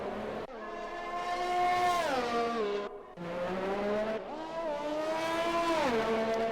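Formula racing cars in a racing video game on the Canadian Grand Prix circuit, engines screaming at high revs and shifting through gears as they pass in two distinct runs, loud and close with brief dips between.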